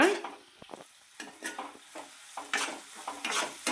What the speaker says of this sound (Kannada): ಈಗ ಮೀಡಿಯಮ್ ಫ್ಲೇಮಲ್ಲಿ ಫ್ರೈ ಮಾಡ್ಕೊಳ್ಳೋಣ